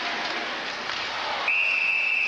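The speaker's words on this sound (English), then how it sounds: "And the whistle." A referee's whistle blows at a junior A ice hockey game, a sustained steady shrill tone entering about halfway through over loud, continuous arena crowd noise.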